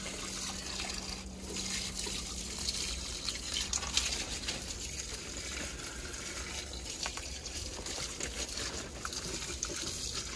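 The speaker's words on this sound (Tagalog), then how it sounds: "Kailangan na kong lagyan ng tubig ang mga halaman." Water splashes and trickles steadily for several seconds in a greenhouse, a continuous wet, hissing flow like a hose or can pouring over plants.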